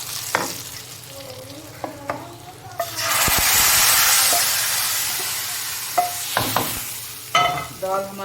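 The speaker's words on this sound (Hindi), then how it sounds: "ये लगा दिया हमने इसको तड़का।" A tadka of whole cumin seeds and browning onion in hot oil for moong dal bursts into a loud, steady sizzle midway, preceded and followed by scattered clinks of a spoon stirring the pan.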